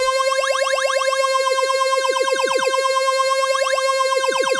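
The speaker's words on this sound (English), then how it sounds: "Kind of increases that phasery sound" A sustained Korg Monotron Delay analog synthesizer tone with sweeping, swirling phaser-like modulation, bright and loud, its harmonics rising and falling in repeated waves.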